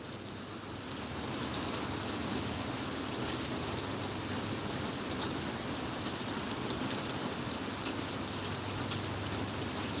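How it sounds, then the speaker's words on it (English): Steady, dense rain pours down without a break, a broad hiss filling the air with no voices over it. "Can you hear this rain coming down?"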